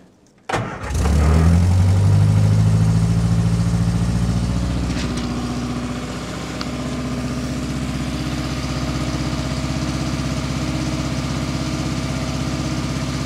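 An Austin/Morris van engine starts and runs on choke, a loud steady idle with a low rumbling tone that settles slightly lower after several seconds, with no voices over it.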